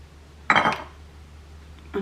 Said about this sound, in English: putting the dishes away.